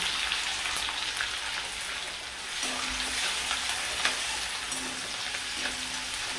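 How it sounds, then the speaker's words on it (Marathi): Coarsely crushed garlic and torn curry leaves fry in hot oil with a steady, dense sizzle close by, crackling continuously throughout without any talk. "लसूण आपल्याला चांगला कलर येईपर्यंत परतून घ्यायचा आहे।"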